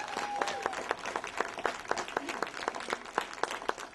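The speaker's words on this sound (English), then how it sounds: "Let's give Roebuck a huge round of applause." A crowd at a library branch reopening celebration applauds, with sharp individual claps standing out over a steady, moderately distant round of clapping and a little murmur.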